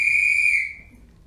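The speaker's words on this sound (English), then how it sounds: "I bet he's dying to try their new whistle." A single sharp, high whistle blast during a school stage play, holding for about half a second and then trailing away into quiet.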